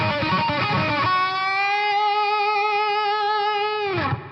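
Distorted electric guitar lick with reverb added: a fast run of picked notes, then a long held note with wavering vibrato that ends in a downward dive, a wash of reverb filling behind it.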